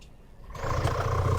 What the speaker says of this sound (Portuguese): Parou o motor, vou dar a partida novamente.